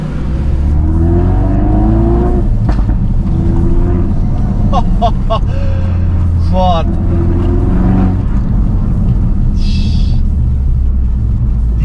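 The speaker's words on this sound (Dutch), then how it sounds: "Die klappen worden ook steeds harder naarmate de auto warm is." Mercedes-AMG GT R Pro engine rumbling loud and steady throughout, with a cluster of sharp exhaust pops and crackles in the middle, while people talk over it.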